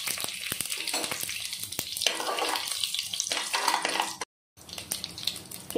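Mustard seeds splutter in hot oil in a pan, with a steady sizzle broken by many sharp crackling pops close by. A short silent gap falls near the end.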